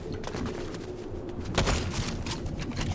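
Dense, continuous gunfire in a Fortnite match, overlapping rapid shots rattling at a steady loud level for the full few seconds with one heavier blast in the middle.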